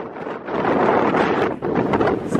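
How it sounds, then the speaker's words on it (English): Strong wind buffets the top of Filey Brig, a rocky headland on the North Yorkshire coast, producing a loud, continuous rushing roar against the microphone that surges and dips briefly. "the wind is so much stronger here"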